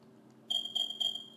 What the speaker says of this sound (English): I had to figure out which smoke detector it was.